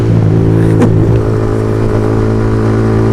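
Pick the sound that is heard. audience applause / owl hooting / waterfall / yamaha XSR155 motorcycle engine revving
yamaha XSR155 motorcycle engine revving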